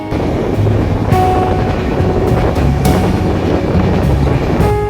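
A train rumbles steadily along the tracks on the Agartala to Guwahati line through hilly northeast India, with clattering wheels and rattling carriages throughout, close and loud with no voices.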